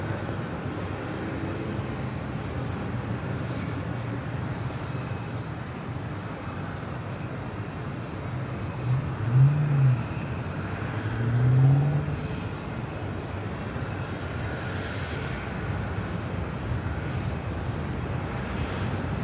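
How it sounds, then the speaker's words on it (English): Polar Air Cargo Boeing 747-8 freighter taking off from runway 25 left at Los Angeles International Airport, a steady distant engine rumble building slightly in the middle, continuous low roar with a faint high whine. "We have a Queen rolling on the south side on 25 left. That is Polar Air Cargo 997 departing to Seoul on a 747-8 freighter."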